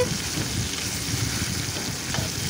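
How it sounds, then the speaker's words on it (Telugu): Ridge gourd peels and green chillies fry in oil while being stirred with a ladle, making a continuous soft sizzle with faint scraping underneath and no talking. "ఈ విధంగా మధ్య మధ్యలో కూడా గరిటతో మనం కలుపుకుంటూ ఫ్రై చేసుకోవాలండి."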